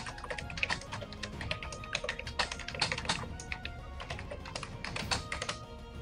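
A message typed on a computer keyboard, with rapid, uneven bursts of clicking keys up close that run steadily for several seconds with no voices.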